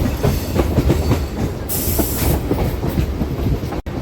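A MEMU passenger train runs on the Machilipatnam to Bhimavaram line with a steady close rumble and rhythmic clickety-clack from the wheels. A brief airy hiss swells in the middle.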